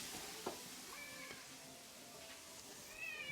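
Small cats meow in World of Warcraft while a character cooks, two thin, faint meows standing out over a steady hissing, sizzling background.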